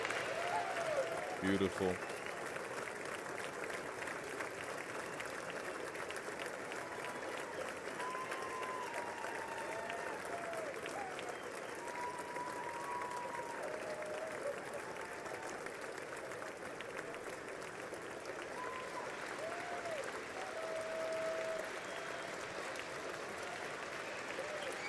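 Sustained applause fills the chamber at the State of the Union address as the President of the United States is introduced, a steady wash of clapping with a brief spoken word early on.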